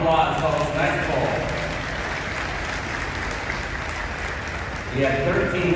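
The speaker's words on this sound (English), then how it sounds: "give him a big round of applause" Outdoor crowd applause at a horse pulling competition at Michigan State University, a moderate, steady wash of clapping in the middle, with an announcer talking over the PA at the start and end.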